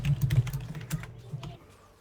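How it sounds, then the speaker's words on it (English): Rapid keystrokes patter on a computer keyboard during a Guild Wars 2 boss fight, a close, quiet burst of clicks that slows and thins out toward the end. "I was typing."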